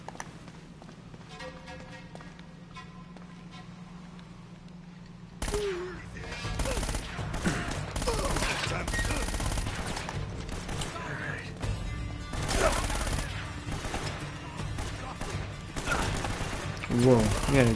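Gunfire in the video game Uncharted: Drake's Fortune, including an Uzi, sounds as a long stretch of dense, loud shooting that starts abruptly after a quieter mechanical opening, with intermittent speech over it.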